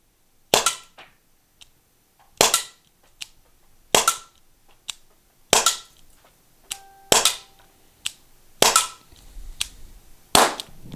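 T4E TR50 pepperball launcher firing six sharp, loud cracking shots at roughly evenly spaced intervals, each followed by a short fainter impact or echo, with quiet between shots.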